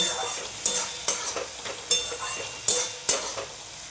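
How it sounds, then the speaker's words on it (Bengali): Spice paste stirred and frying in hot oil for a cauliflower roast, a continuous sizzle broken by about eight sharp scraping strokes of the spoon against the pan. "মশলাটা এখন কষবো।"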